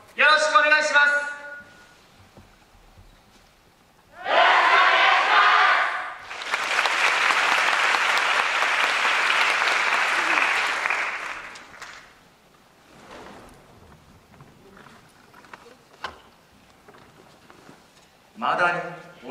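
An audience claps for a dance circle's performance at an autumn festival in Kansai, with long stretches of dense, loud applause between quieter passages, and voices heard at the start and end.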